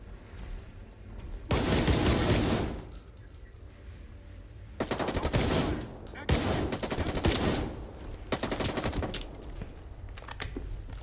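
Automatic gunfire in S.T.A.L.K.E.R. 2, coming as several loud, rapid bursts separated by quieter gaps.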